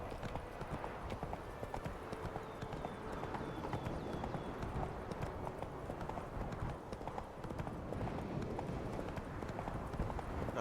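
Hooves of the horse Roach in The Witcher 3, a dense rapid clip-clop of galloping that is steady and continuous, close and moderately loud across the whole stretch.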